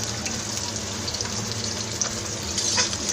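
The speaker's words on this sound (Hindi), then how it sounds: "ये भी अच्छे से फ्राई कर लेंगे।" Capsicum pieces fry in a pan for chilli potato, a steady close sizzle and hiss of hot oil with no talk.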